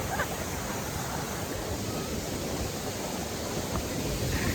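A waterfall in Mustang, Nepal pours with a steady, even hiss of falling water, constant and moderately loud throughout with no break or voices.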